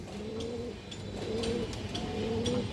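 A large male silver pigeon with black lacing coos close up, giving three drawn-out, rolling calls in a steady rhythm with no talk over them.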